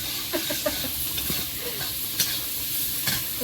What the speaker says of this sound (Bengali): যুবতী চিংড়ি একটু ভেজে নিয়ে